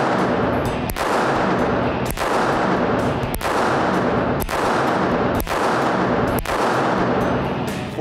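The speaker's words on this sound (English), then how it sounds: "A little gun like this can shoot at distance." Springfield Armory 911 .380 pistol fired at a target about 50 feet downrange, six sharp loud shots spaced roughly a second apart, each with a ringing decay over steady outdoor range noise.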